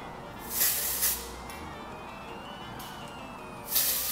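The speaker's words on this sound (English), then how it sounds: "Spray that in, and then I'm going to do the sides as well." Short hissing bursts of texturizing hair spray from an aerosol can, sprayed onto hair for a Halloween updo, three quick puffs with gaps, close and fairly quiet.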